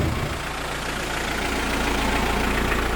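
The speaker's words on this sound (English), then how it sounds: "But the Paj is cranking. Listen to that diesel." A Mitsubishi Pajero diesel engine idles steadily and close by, a low continuous rumble with no voices.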